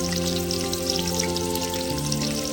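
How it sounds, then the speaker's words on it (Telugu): Dried fish frying in a pan for a gongura curry, giving a steady close crackling sizzle with no break throughout. "వీటిని బ్రౌన్ కలర్ వచ్చే వరకు వేయించుకుందాం."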